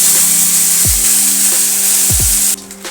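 Ridge gourd paste drops into hot white oil tempered with nigella seeds, giving a loud, close, continuous sizzle with a few clunks of utensils before the frying noise suddenly drops away near the end.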